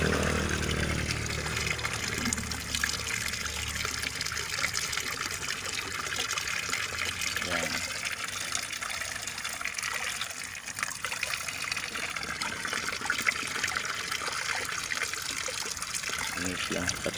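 Water runs and trickles steadily into a container while mixing molasses for a hollow-block business, a continuous close splashing flow with people talking over it.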